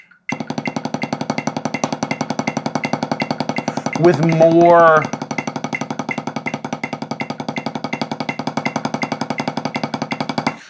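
Rapid, steady wrist-played stick strokes on a drum practice pad, evenly spaced throughout, with a brief spoken remark cutting in near the middle.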